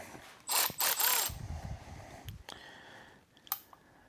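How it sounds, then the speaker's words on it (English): An M12 cordless ratchet spins out a 13 mm bolt on a tool cart caster, two close whirring bursts in quick succession followed by lighter clicks and a short metallic tap. "It's a 13 millimeter. I'm going to use my M12 ratchet."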